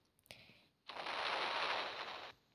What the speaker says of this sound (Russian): Вон взрывают.